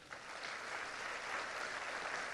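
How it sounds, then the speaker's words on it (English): An audience applauds its panel members in a dense, even wash of clapping that holds steady from start to finish, fairly faint and somewhat distant. "I want to lead a special thank you round of applause by our audience"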